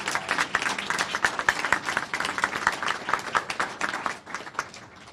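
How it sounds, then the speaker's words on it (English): Steady applause from an awards presentation crowd, many hands clapping densely without pause, fairly close and sustained, easing slightly toward the end. "let's all give them a round of applause"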